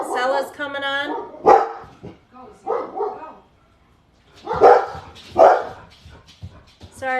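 Dogs bark and yelp at home as they are being let out. The loud, close barks come in bursts at the start and again in the middle, with pauses of near silence between.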